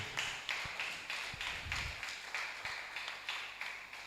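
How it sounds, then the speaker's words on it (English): Audience at an alumni association's annual general meeting clapping in a steady, evenly spaced rhythm, each clap ringing briefly in a reverberant hall, with occasional low thumps underneath. "Please keep clapping."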